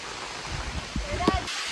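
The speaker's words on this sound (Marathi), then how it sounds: "खूप जोरदार पाऊस पडत आहे आणि हा असा पाणी पायऱ्यांवरून खाली येत" Heavy monsoon rain pours at Raigad fort while water streams down the stone steps, a dense steady rush with a brief voice near the end.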